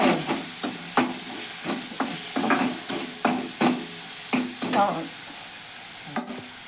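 Broad beans fry in a hot pan, a soft sizzle broken by repeated sharp scraping strokes as they are stirred at an uneven rhythm.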